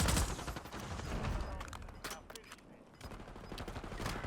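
Bursts of rapid gunfire and scattered single shots crack through a close-range firefight on Rebirth Island in Warzone, loud and dense with a brief lull in the middle, while a voice talks underneath.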